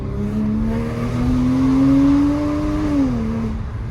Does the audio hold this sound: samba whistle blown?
no